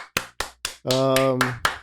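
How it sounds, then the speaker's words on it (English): A few sharp hand claps in a small group, spaced irregularly and close by, broken by a person's voice speaking briefly in the middle. "Round of applause."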